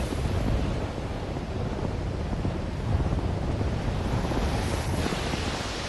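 A wind-powered sailboat's hull slicing through ocean waves, a steady loud wash of churning water and wind rushing past, continuous and close throughout.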